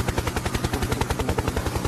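A toy helicopter flies close by, its rotor giving a loud, rapid, even chopping pulse that runs through the entire clip.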